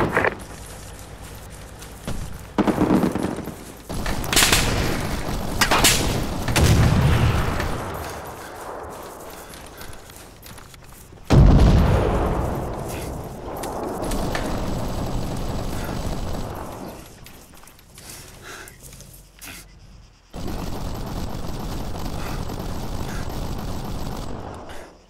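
Incoming gunfire in the military shooter Arma 3, loud sharp cracks and bursts scattered across the scene, some close and some farther off, with busy battlefield noise between volleys and no talking.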